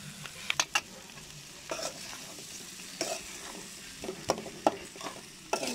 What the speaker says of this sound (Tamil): உருளைக்கிழங்க அந்த மசாலாவோட நல்லா வந்து கொஞ்சம் நம்ம சிம்லயே வச்சிட்டு நல்லா கிண்டி விட்டுறோம்.